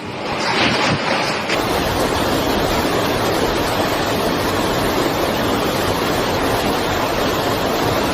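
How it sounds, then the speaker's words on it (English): Heavy ocean storm surf crashes against a boat, a dense, loud roar of pounding water and wind that fills the whole stretch without letup. "The boat when faced with storms from the ocean."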